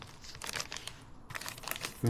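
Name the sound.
crinkling foil survival blanket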